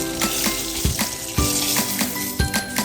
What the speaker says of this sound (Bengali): কড়াইতে তেল দেওয়া হলো গরম তেলে পেঁয়াজ এবার পেঁয়াজগুলো একটু ভেজে নিতে হবে